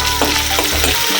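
Chopped onion and curry leaves fry in about two ladles of oil in a kadhai for a prawn gravy, a steady sizzle with a few soft stirring strokes, close and fairly loud.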